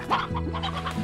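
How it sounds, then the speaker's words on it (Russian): A chicken in the video game Slime Rancher gives a short burst of close, fairly loud clucks lasting about a second, with no voices over it. "То есть вот это обычная курица?"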